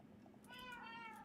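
A pet cat gives one drawn-out, rising-then-falling meow, close and clear in a quiet indoor room with faint background noise before it.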